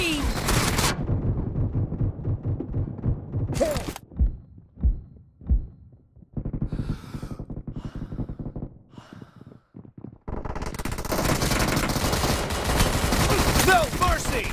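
Rapid gunfire in a team shooting video game: a dense burst opens, a short volley follows, scattered thumps fill a quieter middle, and a long sustained barrage closes it out, loud and close.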